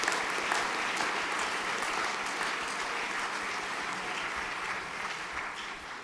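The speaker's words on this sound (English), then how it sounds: "If you could applaud these men" Steady, full applause from an audience at a junior school graduation ceremony, continuous dense clapping throughout, moderately close.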